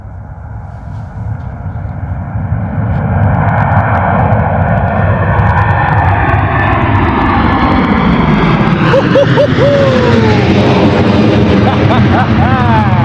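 An airliner at London Gatwick spools up its engines, the roar building from a low rumble into a loud, rising whine with swelling tonal sweeps.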